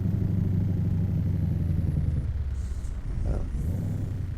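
The E9 V8 engine of a Mack Superliner truck in American Truck Simulator drones with a steady, loud low rumble, with a brief hiss and a surge partway through.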